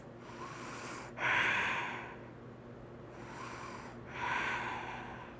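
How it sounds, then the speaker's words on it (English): Slow, deep breaths taken during a yoga bridge pose, two long airy inhale-exhale cycles heard close and fairly soft over a low background hum. "Three breaths."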